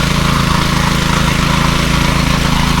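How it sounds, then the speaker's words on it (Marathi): A motor-driven water pump lifting water uphill to a paddy field in Konkan runs as a steady, loud engine drone with no break, nearby and unaccompanied. "पाणी पर्यातून वरती आणण्यासाठी पंप लावला आहे"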